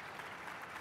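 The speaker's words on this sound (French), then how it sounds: "un tour d'applaudissements, s'il vous plaît." Audience applause at a panel session on innovation in Africa, a brief, soft burst of steady clapping from a conference crowd with no voices over it.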